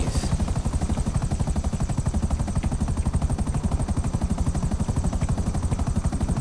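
A helicopter in GTA Online, its rotor chopping in a rapid, even, unbroken pulse with a constant engine whine, loud and close throughout.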